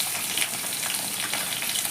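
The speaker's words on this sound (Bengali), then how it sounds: "এবার আমি কুমড়োটাকে ভেজে নেব।" Pumpkin pieces fry in a little oil in a wok, giving a steady, dense hiss and crackle that carries on evenly throughout without any talk.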